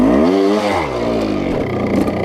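A big-engined Merlin vintage trial motorcycle in a classic trials event, its engine revving up and dropping back close by in a short, loud burst of breathy exhaust.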